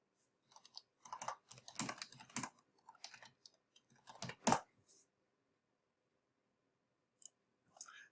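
Quiet keystrokes on a computer keyboard come in short, uneven clusters as someone types a help search into Stata. Sharper single taps follow, then a long pause and a few final clicks, with no voice.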